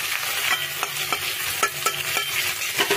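Prawns frying in a pan for a spicy dahi prawn dish, a continuous loud sizzle punctuated by regular scraping stirs and turns, close up with no voices.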